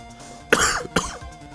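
A person coughs twice in sharp, close, loud bursts about half a second apart, with a rough throaty tail after each; no talking.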